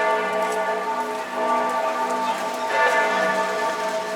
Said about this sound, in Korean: 갑자기 울려 퍼진 대성당의 종소리가 내가 피렌체에 와 있음을 실감케 했다.